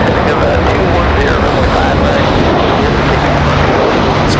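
An airliner takes off from runway 23 right at Raleigh-Durham, a loud, continuous roar of jet engines filling the air close by and steady across the whole stretch.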